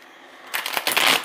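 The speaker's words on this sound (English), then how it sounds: "I shuffled these cards off camera, but something is telling me to shuffle them again" A deck of tarot cards is shuffled close up, a quick riffling flutter of several rapid bursts that rises after a quiet moment and runs to the end.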